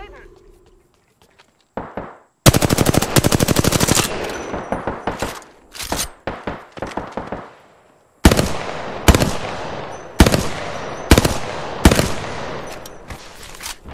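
Machine-gun fire in a first-person shooter, loud bursts of rapid automatic shots in several volleys with short gaps between them, the first volley long and sustained, later ones shorter and sharp.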